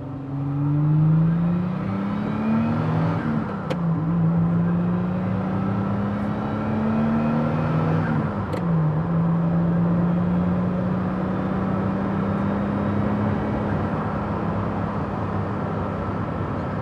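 A Venturi 260LM, a light French GT sports car weighing about 1.2 tonnes, accelerates hard while driving, its engine note climbing steadily through two gear changes with a brief dip at each shift, loud and continuous over road noise.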